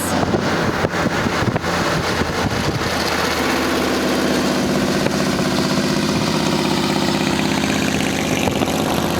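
A car engine runs steadily while driving at night past roadside businesses, a continuous broadband rumble with wind noise that settles into a smoother low drone, loud and close throughout with no talking.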